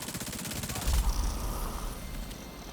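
Rapid automatic gunfire in a looter-shooter boss fight during a Camp White Oak Guardians event, a dense rattling burst up front giving way to a heavier booming stretch and lingering clatter, loud throughout with no voices.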